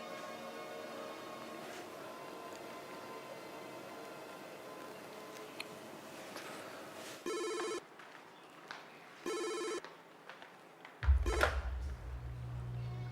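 Telephone ringback heard on an outgoing call: two distinct electronic ring bursts over faint room ambience, followed by a click as the line connects.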